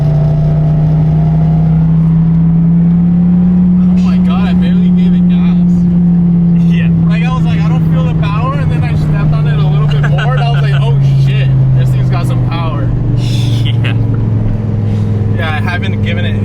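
A Dodge Viper's engine drones loudly and steadily from inside the car, its low tone easing slightly, while people talk over it throughout.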